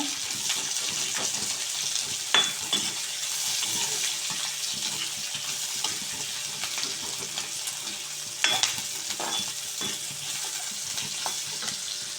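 Steady sizzling of spices frying in a pan, with occasional stirring scrapes and light clinks, close and continuous.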